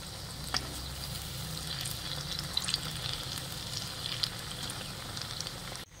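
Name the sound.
spinach bhaji frying in oil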